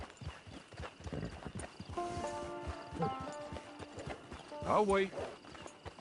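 Horse hooves clip-clop in a steady rhythm while riding in Red Dead Redemption 2 Online, with a horse's whinny near the end and someone briefly speaking over the hoofbeats.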